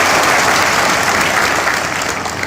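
Audience applause at a Bharatiya Janata Party workers' gathering, steady dense clapping sustained at full loudness throughout, close and alone without speech.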